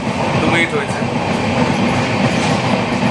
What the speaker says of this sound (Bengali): আমাদের ট্রেনেই এখন ছাড়লো